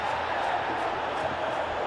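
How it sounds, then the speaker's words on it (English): A football stadium crowd roars in the video game Pro Evolution Soccer during a simulated La Liga match between Atletico Madrid and Barcelona, a dense, continuous wash of cheering that swells in places and stays loud throughout. "the crowd are reacting to that now"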